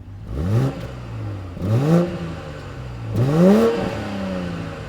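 The twin-scroll turbocharged 3-liter inline six of a 2019 BMW X7 revs three times, each a loud rising engine sweep that settles back to idle, heard close with no talk.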